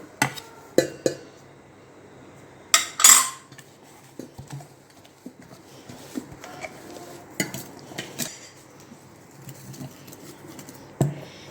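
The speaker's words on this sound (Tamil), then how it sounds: "இப்போ வந்து உளுந்து அரைச்சாச்சுங்க வேறு பாத்திரத்தில் போட்டுக்கிறோம்" Ground urad dal batter scraped and transferred into another vessel for egg urad dosa, with scattered clinks and knocks of utensils against metal pots, a few sharper scrapes standing out against a quiet kitchen background.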